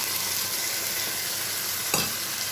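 Ginger, garlic, chili and cumin paste fries with onion in a pan for a Bengali chicken dish, giving a constant close hiss of hot oil and one sharp scrape or clink of a spatula near the end.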